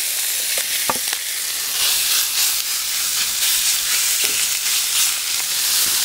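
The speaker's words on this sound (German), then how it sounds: "Und dann werden wir hier unsere Kalbschnitzel schön dezent anbraten." Steady sizzling of veal strips frying in hot oil in a Dutch oven, a continuous crackling hiss with a few sharper pops, close and fairly loud.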